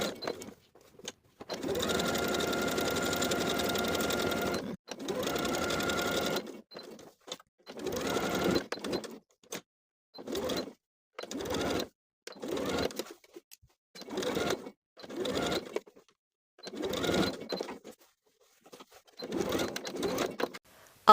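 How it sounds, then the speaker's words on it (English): A sewing machine topstitches around the collar of a plaid wool jacket in repeated close bursts of rapid mechanical chatter, with one long run followed by several short stitching spurts separated by quiet pauses. "we're going to top stitch the collar all the way around"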